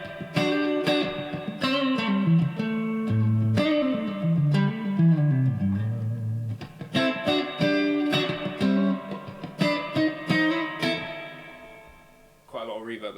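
Clean electric guitar chords and melodic runs ring out with a long, washy reverb tail, played steadily and fairly loud.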